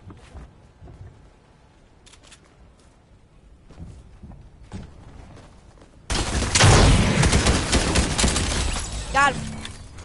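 SMG fire in Fortnite: a few faint clicks and taps, then a sudden loud, sustained stream of rapid shots at close range that runs to the end.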